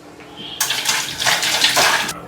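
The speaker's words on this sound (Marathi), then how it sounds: "बघा अगोदर हात धुवून घेतो" Running tap water splashes loudly over hands being washed for about a second and a half, a steady broad hiss with small shifts as the hands move, no voices.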